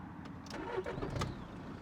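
A car engine cranks and catches after the ignition is switched off and back on, a brief close whirr that settles into a low idle.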